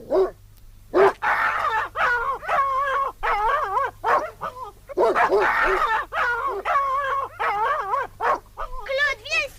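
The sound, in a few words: dogs barking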